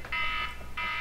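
A phone alarm for a tornado warning sounds in two short electronic tone bursts about half a second apart, moderately quiet and heard alone.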